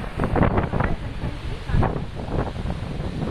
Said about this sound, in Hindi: और ज्यादा बारिश होने लगी है